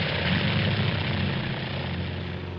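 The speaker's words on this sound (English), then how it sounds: "It's a small helicopter." A small cartoon helicopter flies with a continuous, loud rotor-and-engine drone that holds steady throughout and sits close, with no talking over it.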